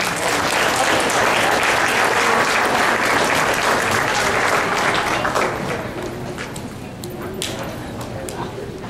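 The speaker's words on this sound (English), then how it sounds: "Another round of applause," Loud, sustained applause from a church audience fills the space, a dense wash of clapping that thins and softens slightly toward the end.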